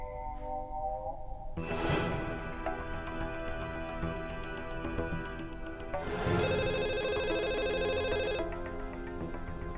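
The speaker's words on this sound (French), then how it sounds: "Le téléphone sonne, vas-y et réponds, maman." A telephone bell rings in a household scene from an Indian TV drama, sounding in two bursts of sustained ringing over a dense backdrop of music and ambience.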